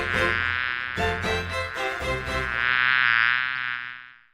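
A bee-buzzing sound effect plays as a loud, close, droning hum that wavers in pitch, breaks into short stuttering bursts, then swells into a sustained buzz before cutting off.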